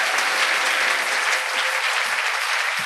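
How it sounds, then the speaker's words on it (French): A church congregation applauds in praise of the Lord, a dense, even burst of many hands clapping together at a sustained level without any clear voices. "Est-ce qu'on peut acclamer le Seigneur?"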